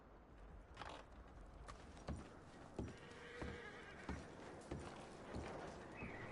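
Horses in the Red Dead Redemption 2 video game: a steady series of hoof clip-clops on hard ground, with neighs and whinnies mixed in, fairly faint and heard alone with no talk.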